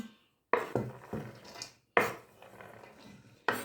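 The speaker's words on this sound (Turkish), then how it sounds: "Tamam şimdi hepsini kabıma alıyorum." Chopped cabbage is scraped and tipped into a bowl in a few clattering bursts, with knife and dish knocks between them.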